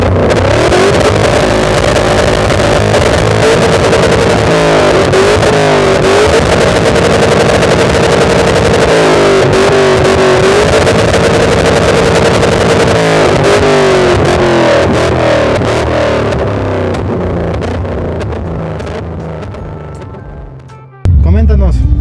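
A Hyundai Genesis fitted with a Corvette LS3 V8 engine idles loudly and close by with a deep, lumpy burble. It revs repeatedly in rising and falling surges, then the engine cuts and a voice speaks briefly at the end.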